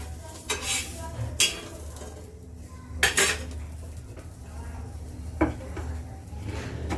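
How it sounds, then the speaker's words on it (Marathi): Aloo paratha roasting on a pan, with a faint sizzle and sharp clinks and scrapes of a utensil against the pan at irregular intervals, nearby. "या ठिकाणी भाजून आता घेऊया आपण"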